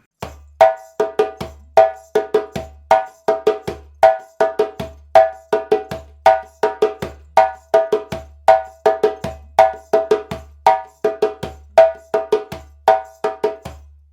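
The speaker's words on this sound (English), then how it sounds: "Moving on now to the third djembe part." A steady, looping djembe rhythm of deep bass tones and sharp ringing slaps, repeating evenly for the whole stretch with no voices; the third djembe part of the Warabadon rhythm.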